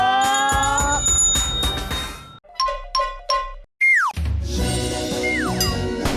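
A series of bright bell chimes and dings, several separate rings with short gaps, ending in a rising tinkling flourish.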